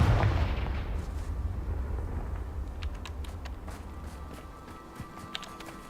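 The Confringo explosive spell in the video game Hogwarts Legacy sets off a loud, booming blast that rumbles and fades away. Sharper clicks and footstep-like taps follow near the end.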